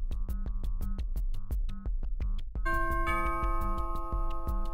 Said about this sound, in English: You can use any COCO transmitter to activate the chime.